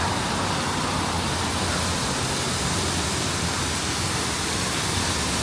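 Artificial waterfall at a shopping mall, a loud, steady rush of falling water that stays broad and unbroken throughout, heard up close with no voices.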